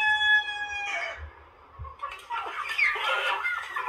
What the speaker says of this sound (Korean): 마침 저 닭이 알을 낳으러 들어가는구나